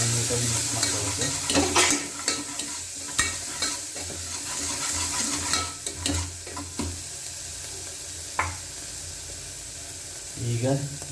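Ingredients for a peanut-powder vegetable stir-fry, with salt and turmeric, being stirred in a frying pan: repeated scraping and clinking strokes against a soft sizzle, close and irregular, with brief talk over it.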